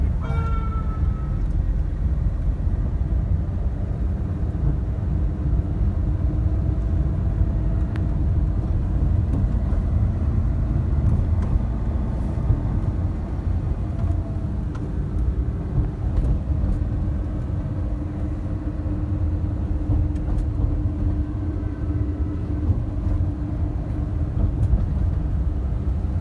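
A car engine hums steadily with low rumble while driving in traffic, continuous and fairly close, with no talking.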